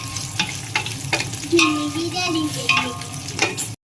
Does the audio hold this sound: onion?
yes